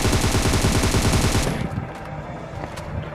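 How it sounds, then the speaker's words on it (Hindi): Bursts of automatic gunfire from inside a house in the game Free Fire, a loud rapid rattle lasting about a second and a half, then fainter scattered shots and game noise. "तो इसे मारने के बाद मेरे को उस घर से फायरिंग की साउंड आते हैं"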